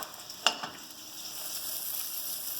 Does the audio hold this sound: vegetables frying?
yes